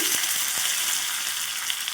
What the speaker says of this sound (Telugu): ఈ విధంగా ఇవన్నీ కూడా మంచిగా ఫ్రై చేసుకోవాలి